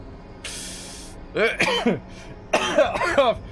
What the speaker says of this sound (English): Give myself a coughing fit now.